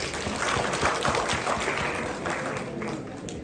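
Audience applause at an international Punjabi conference, a steady patter of many hands clapping at moderate volume, slightly distant and fading a little toward the end.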